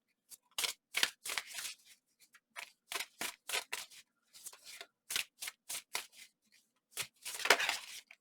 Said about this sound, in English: a little bit of a messy shuffle there.